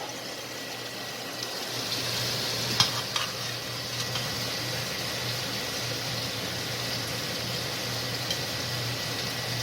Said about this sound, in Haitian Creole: je vais mettre l'ambia pour mélanger. Mélanger dans la chaudière